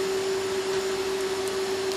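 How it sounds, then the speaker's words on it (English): Steady MIG welding arc on 12 mm stainless steel joined to carbon steel plate, using 309L 1.2 mm wire and argon-CO2 gas, a continuous close buzzing hiss with a strong constant hum and no talk. "I use MIG welding stainless steel"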